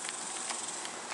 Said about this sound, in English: listening to the cicadas out here.